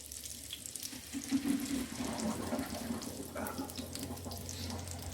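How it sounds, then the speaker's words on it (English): Pasta cooking water is poured from a pot into a kitchen sink, a rushing splash that builds after a second and then settles into a steady gurgling pour with a low background hum. "So empty pan, drain my pasta sauce, or my pasta."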